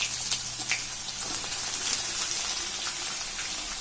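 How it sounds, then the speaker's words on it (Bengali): Onions sizzle and spit in hot oil with a bay leaf in the pan for an Indian egg cake curry, a steady close hiss with scattered crackling pops and no talking. "এবার পেঁয়াজটা আমি ভেজে নেবো।"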